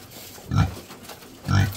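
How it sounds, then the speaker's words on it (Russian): Sow in labour grunts twice, two low, close, deep grunts about a second apart in a quiet barn, with no talk over them. "Видите, как хрюкает и ложится."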